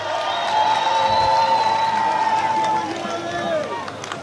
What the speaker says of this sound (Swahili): Piga makofi kwake Dr. Homera.